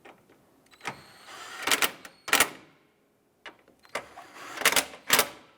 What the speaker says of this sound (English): I'm going to go ahead and install our 10mm bolts. Let's go ahead and tighten those down.